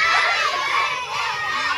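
Children shout together on command at a ninth birthday party, a loud, sustained crowd of young voices yelling at once, close and continuous.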